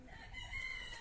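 A mother hen on a small backyard flock, agitated, gives a brief burst of clucking and squawking calls, close and moderately loud, over low rustling background noise.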